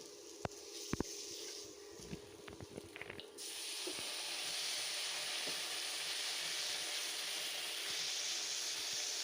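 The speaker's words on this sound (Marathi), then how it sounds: "त्यामध्येच आपण थोडंसं पाणी घालून घेऊया" Clinks and light clatter, then water splashes into a hot pan of bitter gourd tempering and a loud, steady hiss of sizzling takes over and continues to the end.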